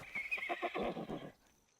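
A horse in the Blade and Sorcery VR game gives one loud, close whinny with rapid pulsing rises, fading out abruptly into near silence.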